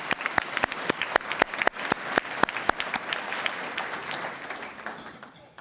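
An audience applauds at a village address, with sharp, distinct claps that are loud at first and then thin out and fade toward the end, with no talking.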